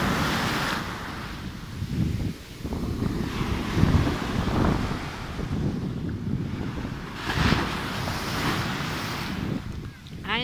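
Atlantic surf and wind at Angeiras beach in northern Portugal on a summer day, with steady rushing waves washing in close by and heavy wind buffeting the microphone throughout, swelling louder in a few bursts.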